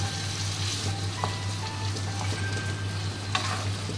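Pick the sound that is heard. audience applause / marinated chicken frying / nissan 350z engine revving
marinated chicken frying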